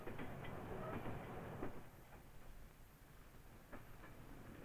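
A 1970s train between Leeds and Harrogate runs along single track with a steady low rumble and occasional rhythmic clicks from the wheels, heard from inside and fairly faint.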